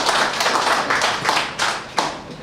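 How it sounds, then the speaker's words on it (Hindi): Audience applause at a Hindi comedy poetry event (hasya kavi sammelan), a steady, dense burst of many hands clapping that keeps going for the whole stretch, with a few louder swells near the end. "ताली ताली तो जोरदार बजेगी,"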